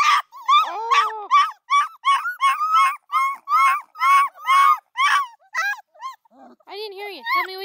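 Coonhound puppies barking loudly in a rapid, near series of high yelps and barks, with a few whimpering howls mixed in and a person talking briefly near the end.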